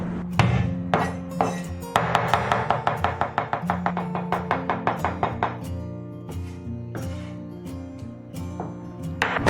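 Scallion, ginger and garlic crushed with a cleaver and then minced on a board: a few heavy smacks, then a rapid even run of close knife chops that slows toward the end.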